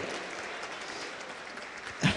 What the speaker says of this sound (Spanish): Un fuerte aplauso para Josué